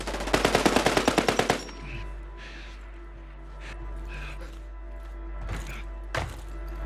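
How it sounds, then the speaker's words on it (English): Rapid automatic gunfire from enemies in a video game, a loud burst of about a dozen evenly spaced shots in the opening second and a half, then quieter background game noise with a couple of distant sharp hits. "Taking enemy fire!"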